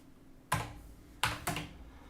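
A few sharp keyboard strikes land on a computer keyboard during a day-trading session, with three distinct clicks or short clusters of keypresses set against a quiet room.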